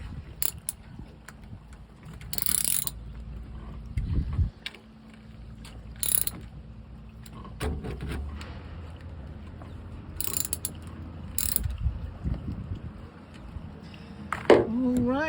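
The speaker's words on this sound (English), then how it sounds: "Grab my wrench. Make sure they all get" A hand wrench ratchets bolts tight on a jet ski being repaired for loss of power, giving repeated short clicking bursts at close range with scattered handling clatter and a low background hum.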